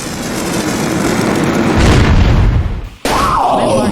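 Fire-type flame move from the Manamon 2 video game: a loud, sustained roaring whoosh and boom lasting a few seconds, cutting off briefly before a rising synthetic sweep takes over.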